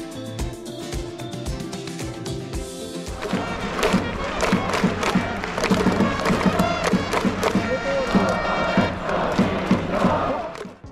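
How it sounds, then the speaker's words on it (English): Baseball fans cheer at a live game in Japan, a dense roaring crowd with rhythmic chants, shouts and drumming that swells after a quieter start and stays loud and continuous throughout. "it was a really fun experience thanks to the atmosphere of the fans cheering"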